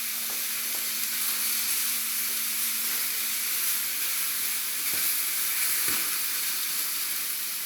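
Food sizzles steadily in a pan for a Mexican drowned tortas dish, with a couple of faint clinks as a spoon stirs it; the frying hiss stays constant and close with no talking.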